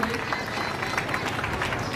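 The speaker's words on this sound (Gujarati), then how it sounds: "આપણે જોરદાર તાળીઓથી વધાવી લઈએ." An audience at a January 26 Republic Day gathering claps and cheers to welcome a guest, a dense, steady wash of applause filling the whole stretch without pause.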